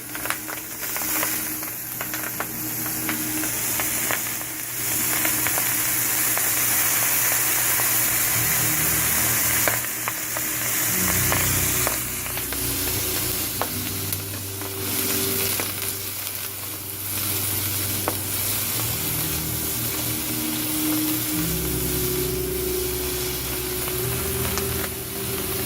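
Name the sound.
mushrooms frying in oil in a Breville electric wok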